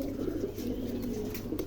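Pigeons coo softly in a low, steady, throaty murmur, continuous and fairly faint, with no talking over it.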